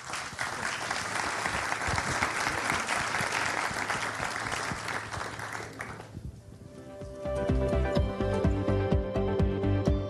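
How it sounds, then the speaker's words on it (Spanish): Audience applause for a panel at a Spanish-language national risk analysis conference session, a dense, steady clapping crowd for about six seconds, then a brief lull and a second burst of brighter, more separated claps. "un aplauso para el panel."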